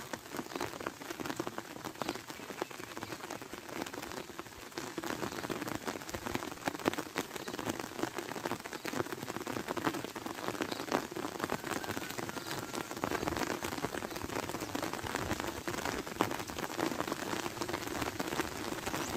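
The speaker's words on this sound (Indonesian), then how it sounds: "hujan semakin deras" Heavy rain pours steadily at Sagara Munjul near a tomb, a dense, even patter of drops hitting surfaces close by for the full length, with no talking.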